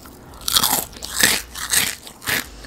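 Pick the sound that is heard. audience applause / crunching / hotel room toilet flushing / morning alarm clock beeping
crunching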